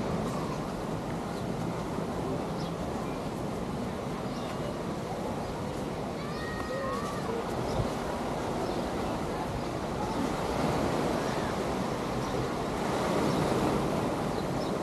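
Ocean waves at Waikiki beach wash in continuously under steady wind, a broad, even surf roar with no clear pauses and no voices.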